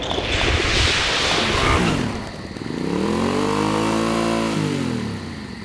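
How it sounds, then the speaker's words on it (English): A motorcycle engine roars, then briefly eases off before revving up again in a smooth rising-and-falling whine, loud and close with no voices. "Barbara returns one of Bruce's motorcycles to the Wayne garage"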